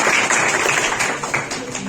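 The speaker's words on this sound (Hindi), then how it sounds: "एक बार जोरदार तालियां हो जाए।" Audience at a 73rd Republic Day celebration in Alwar breaks into loud, steady applause, a dense wash of many hands clapping that holds for about two seconds.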